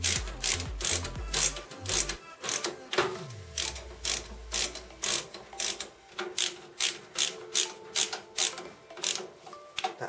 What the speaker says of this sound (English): now let's screw all those screws in and we'll be good to go